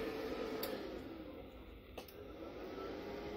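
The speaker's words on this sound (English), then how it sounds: "you can hear the fan on" A steady whooshing hum of a running fan, fairly faint and constant, with a couple of small clicks in the background.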